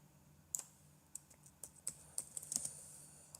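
Fingers tap out a short word on a computer keyboard, a quiet, uneven patter of about a dozen light key clicks, close and with no voices.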